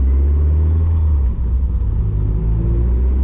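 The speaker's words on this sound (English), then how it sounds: "We're driving our Miata" A Mazda Miata with a slipping clutch and a suspected exhaust leak, heard from inside while driving, its engine a loud, steady low rumble with no voices.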